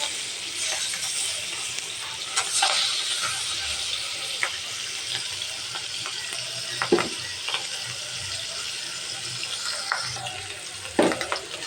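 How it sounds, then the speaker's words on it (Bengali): Fish frying in oil in a pan, a steady close sizzle with occasional sharper pops and crackles throughout, no talking. "দেখুন আমার মাছটা ভাজা হয়েছে, এপিট এপিট খুব লালচে করে আমি ভেজে নিয়েছি।"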